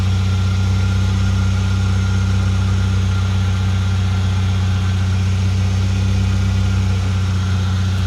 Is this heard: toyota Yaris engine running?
yes